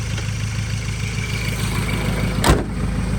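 A 2013 Ford Ranger Open Cab Hi-Rider 2.2 XLS pickup engine idles steadily with a low, even rumble, broken by one brief louder thump near the end.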